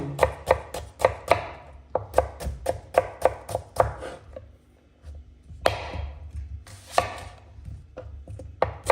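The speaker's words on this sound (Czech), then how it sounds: "Teď si nakrájím cibuli." Knife chopping onion on a cutting board for a pork paprika stew, sharp rapid strokes in quick bursts with a short pause in the middle, close and clear with no talking.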